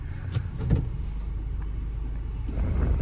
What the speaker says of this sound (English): I'll let this car come first.